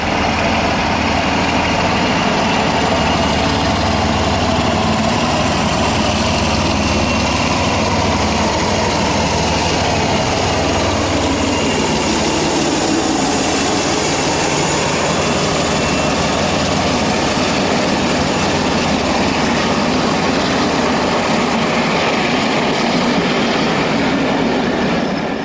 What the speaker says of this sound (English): The Constabulary departs from Burton in the shape of 47829, a West Country service from May 2002